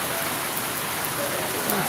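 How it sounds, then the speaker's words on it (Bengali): Steady rain falls in a dense, even hiss with no breaks, close and fairly loud, as on a day of continuous rain since morning. "সকাল থেকে বৃষ্টি হচ্ছে"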